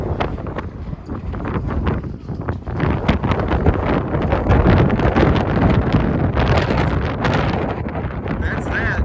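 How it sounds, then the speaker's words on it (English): Strong wind roars across Interstate 8 in Southern California, blowing sand over the highway, a loud continuous buffeting rush of wind noise battering the microphone, with a voice talking over it. "The wind is incredible, and you can see the sand blowing across the interstate."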